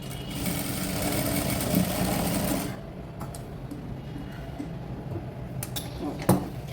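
A sewing machine stitches a garment seam in a fast, steady whir for a few seconds, then stops, leaving quiet handling noises and a sharp click near the end.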